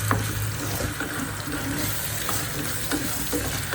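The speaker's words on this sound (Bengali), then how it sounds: "তেলের মধ্যে পেঁয়াজ ভেজে নিচ্ছি ভালো করে" Onions fry in hot oil in a pan, making a dense, continuous sizzle with faint stirring scrapes, heard close and fairly loud with no voices.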